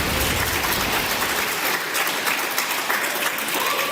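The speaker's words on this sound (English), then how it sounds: "Random applause, I think" A crowd applauds loudly at an election-night count, with a dense, unbroken wash of clapping filling the whole moment at close range.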